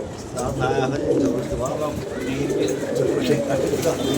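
A pigeon coos softly in repeated phrases near a hand-released bird, while people talk close by throughout.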